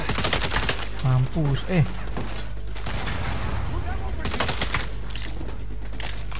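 Bursts of gunfire in Saints Row, sharp volleys of shots mixed with game effects, loud and close, while someone speaks briefly over the action.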